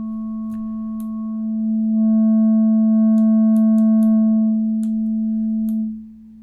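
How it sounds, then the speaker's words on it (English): A eurorack mono synth plays a steady sine tone with its filter resonance turned up, adding higher harmonic overtones. It swells in loudness, holds for several seconds with faint clicks, then cuts off. "the resonance makes the sine wave a little bit more frequent, and we can see how it sounds actually."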